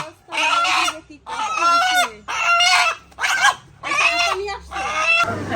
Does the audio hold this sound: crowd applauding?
no